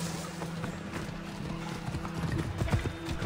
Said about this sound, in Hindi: घोड़े को बुलाता हूँ अपने